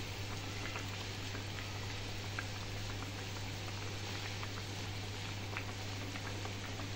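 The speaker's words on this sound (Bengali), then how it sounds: "আমি মিডিয়াম আঁচে 5 মিনিট ভালো করে ফুটিয়ে নেব মাছগুলোকে" Katla fish pieces bubbling in curry gravy over a medium flame, a dense continuous simmering patter with small pops, steady and close throughout.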